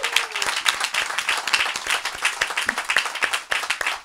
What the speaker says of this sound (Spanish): Aplauso para esta chica